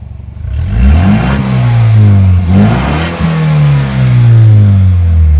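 A Ford Mustang EcoBoost S650 with its entire exhaust removed revs hard, the raw engine note rising and falling in loud, close, droning swells with a rough buzzy edge.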